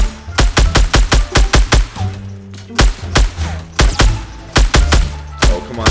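Gunfire in the Fortnite battle royale at Dusty Depot, sharp loud shots in quick rapid bursts, then a short pause and more irregular single cracks and bursts, with no talk over them.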